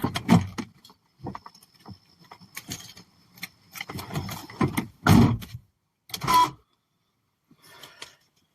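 Sharp, loud car door slam at night on an Oklahoma back road amid scattered clunks and rustles, followed by a couple more thuds and then quiet.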